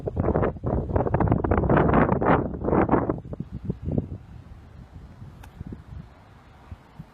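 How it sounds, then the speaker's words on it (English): Wind gusts buffet the microphone out on a golf course, a loud rumbling roar for the first few seconds that eases into a lower, steadier rush with scattered faint bumps. "I can't say it with the wind because the wind's blowing this."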